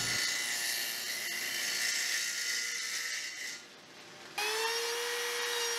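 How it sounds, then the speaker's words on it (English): A table saw's dado stack whines loudly and steadily as it cuts notches through two wooden sideboards at once, dipping briefly before the motor surges back up to a high, even drone. "I'll cut both of these at the same time using the dado stack."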